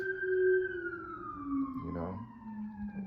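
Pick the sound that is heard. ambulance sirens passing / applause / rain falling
ambulance sirens passing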